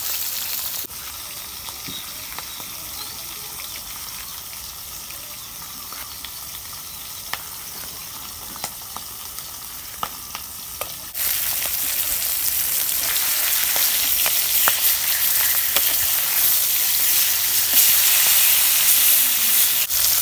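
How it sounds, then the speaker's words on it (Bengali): Pangas fish pieces fry in a pan with a continuous close sizzle that becomes much louder and hissier about halfway through. Light spatter pops are scattered throughout. "মাছ ভাজা হইতে থাক"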